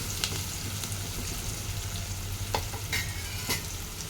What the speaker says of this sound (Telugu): ఉల్లిపాయలు మగ్గుతున్నప్పుడే కొంచెం సాల్ట్ వేసుకున్నాం సాల్ట్ వేసుకుంటే మనకు కొంచెం ఉల్లిపాయలు తొందరగా మగ్గిపోతాయి వేసేసుకొని మొత్తం ఒకసారి కలుపుకుందాం